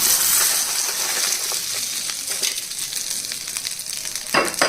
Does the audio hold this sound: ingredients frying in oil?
yes